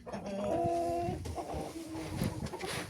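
Chickens clucking and murmuring close by in a coop in winter, a steady run of low calls with one drawn-out note near the start.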